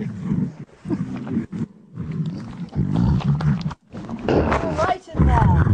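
A cartoon lion gives a string of growling roars in several bursts with short gaps between them, loud and close, mixed with animated character voices.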